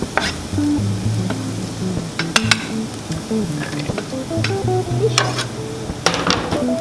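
Garlic frying in a hot pan on medium-high heat, a steady close sizzle with scattered stirring clicks and scrapes throughout.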